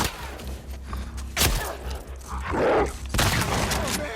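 Shotgun blasts in a video game with a pump-action gun meant for close-quarters combat: a few loud booming shots, each followed by a short mechanical clatter, set over steady game background noise.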